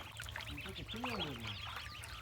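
About 140 ducklings swim in water at an open farm in a jungle, giving soft watery splashing and faint quacking calls beneath someone talking.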